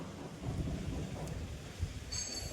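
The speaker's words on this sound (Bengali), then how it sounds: "ভালোই বৃষ্টি নামিয়েছে" Heavy November rain pours down outside, a soft steady hiss with a low distant roll of thunder beneath it, heard faintly from indoors with no talk.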